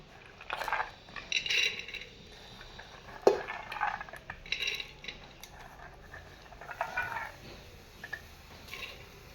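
Metal pots and utensils clink and scrape intermittently at close range while lentils and cauliflower are loaded into a pressure cooker, with short clatters separated by quieter pauses.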